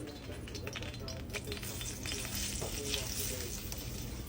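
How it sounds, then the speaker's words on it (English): Rice toasting in a pan for Guyanese pandri gives a dense, continuous dry sizzle with rapid crackles and stirring scrapes, a low background hum running beneath it. "You have to toast your rice."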